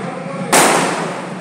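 A single firework bang bursts at a temple festival at night, a sharp loud crack followed by a decaying roar, with steady background noise before and after.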